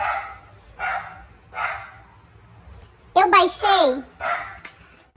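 A household's dogs bark in a series of short, spaced bursts, with a louder cluster of yelping, whining barks in the middle, fairly close and over a low background hum.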